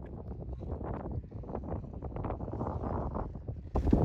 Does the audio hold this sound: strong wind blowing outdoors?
yes